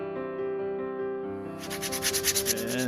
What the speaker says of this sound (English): We're going to hand sand it.